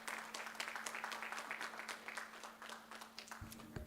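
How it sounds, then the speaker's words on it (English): Audience applause at a Board of Education meeting, a steady wash of many hands clapping in a large room for about four seconds, continuous and moderately loud with no talk over it. "so if we'd give him a round of applause."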